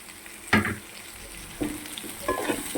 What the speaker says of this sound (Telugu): చూడండి, ఇప్పుడు నేను బెండకాయలు వేసేస్తున్నాను.